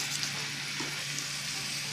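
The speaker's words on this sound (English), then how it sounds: "You hear that sizzle?" Chicken thighs sizzle in a hot pan for Cuban arroz amarillo con pollo, a steady crackling fry with faint spitting pops, close and continuous with no talking.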